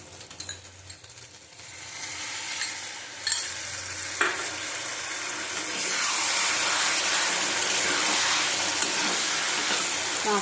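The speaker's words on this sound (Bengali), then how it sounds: "দেবো এই বাটি ধোয়ার জলটা।" Potato and pointed gourd fry in oil in a pan, sizzling softly with scraping stirs, until bowl-rinsing water is poured in and the sizzle swells into a loud, steady hiss.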